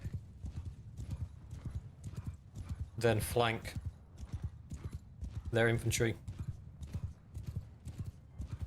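Horses gallop in a large Bannerlord battle, with rapid hoofbeats drumming steadily throughout and whinnies rising twice. Someone talks over the action.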